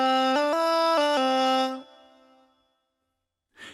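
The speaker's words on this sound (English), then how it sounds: "There's also an Auto Pitch feature that will correct the pitch subtly or in the more drastic robotic way" Singing voice passed through the KORG Pa5X Auto Pitch in its drastic robotic mode, holding stepped, perfectly flat harmonic notes that jump between pitches for under two seconds, then decaying into silence.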